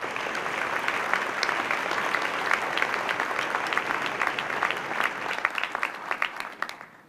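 A commencement crowd applauds trustees and alumni, a moderate wash of many hands clapping at a distance that holds steady and then fades out at the end.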